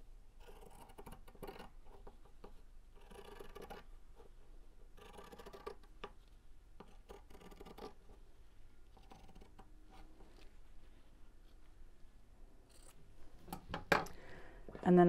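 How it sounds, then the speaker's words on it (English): Scissors snipping through quilting fabric while cutting a curved gift-bag shape, a soft crisp series of close cuts with short pauses, growing louder near the end. "Don't you love the sound of the scissors cutting?"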